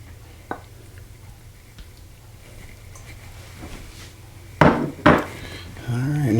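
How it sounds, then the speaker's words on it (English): A spoon scoops peanut butter into a bowl for a no-bake pie. After a mostly quiet stretch come a few close, sharp clinks of the utensil against the bowl, then a voice speaks. "Just scoop our peanut butter in."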